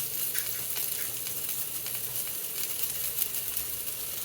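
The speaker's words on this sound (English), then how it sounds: "So now I'm just burning my onions on one side" Onions charring on one side in a hot pan give a steady, dense sizzle and hiss with scattered pops, close and loud, with no talking.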